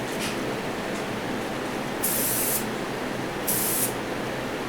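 Two short airbrush or spray-gun bursts lay a light red tack coat on a 1969 Pontiac GTO Judge model car, each hiss lasting about half a second over steady background noise.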